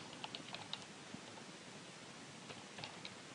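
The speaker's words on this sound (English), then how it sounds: "So we type in" Keys on a computer keyboard are tapped in short, faint bursts of clicks over a quiet background hiss.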